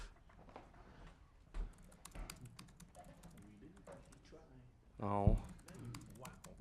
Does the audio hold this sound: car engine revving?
no